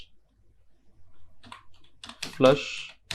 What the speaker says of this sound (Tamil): DNS அப்படின்னு டைப் பண்ணிவிட்டு என்ட்ரு கொடுத்துருங்க